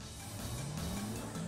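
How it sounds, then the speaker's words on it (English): A racing car engine from the video game Sonic All-Stars Racing drones and rises in pitch, revving up steadily at moderate volume with no voices. "this car sounds amazing."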